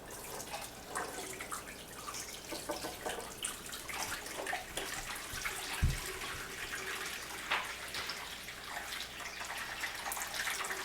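Water is poured into a pan as a water bath for a Cuban lemon flan, a steady close splashing and trickling stream with a brief low thump midway, no talk.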